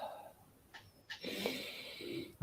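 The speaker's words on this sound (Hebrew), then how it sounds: "וניקח עוד 2 נשימות עמוקות." One slow, deep breath drawn in close to the microphone during a relaxation exercise, a soft airy rush that swells and holds near the end.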